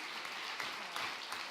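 Audience at the Lumières 2015 awards ceremony applauds, a dense, even burst of many hands clapping that fills the short moment at moderate loudness.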